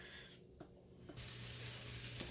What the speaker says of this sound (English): I have my onions sauteing in the garlic butter